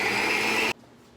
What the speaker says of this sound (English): Okay, I'm gonna whisk this more.